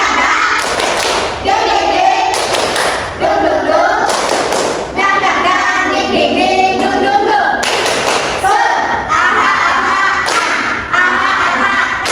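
A classroom group claps out the rhythmic 'tepuk semangat' ice-breaker chant, with loud, close bursts of patterned clapping in repeated phrases and voices mixed in.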